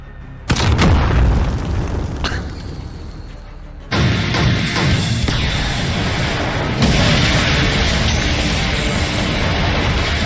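Heavy missile explosions boom in a Call of Duty: Modern Warfare (2019) hardcore team deathmatch, a sharp blast followed by a second loud burst and sustained rumbling debris, dense and close throughout.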